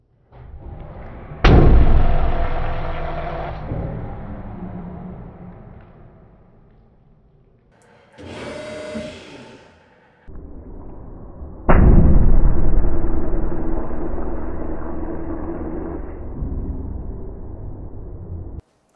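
A 300-ton hydraulic press crushes coffee until it bursts, giving loud sudden blasts with long decaying roars between them and a brief hissing spurt in the middle, close and with no talking.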